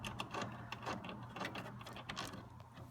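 A 5/16 socket ratchet backs bolts out of a retractable wing, giving a faint, close, rapid clicking of the pawl in quick bursts across a few seconds.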